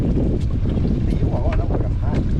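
Wind buffets a fishing boat at sea off Ko Wao island in Surat Thani, a steady loud rush of gusts against the microphone with faint voices beneath.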